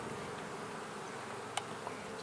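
Honeybees buzz in a steady, dense drone throughout a family beehive inspection, with one brief sharp click partway through.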